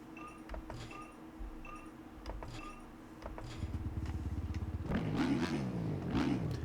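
A dirt bike engine in the MX Bikes game idles with a buzzing drone and short blips, then revs up and rises louder and harsher as the bike pulls away, with no talk.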